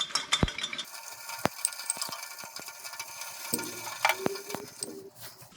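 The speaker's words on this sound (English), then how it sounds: "I've got a bucket of fresh water here for rinsing stuff out" Car parts being rinsed by hand in a bucket of fresh water in a Classic Mini workshop: close sloshing and dripping with occasional metallic clinks of the parts, uneven and irregular, with no talking.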